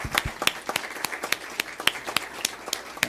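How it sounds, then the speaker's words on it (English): At a school district board meeting, a small group applauds, sparse, distinct individual claps at a steady rhythm, fairly close and moderately loud, lasting about three seconds. "join me in a round of applause for him and the club"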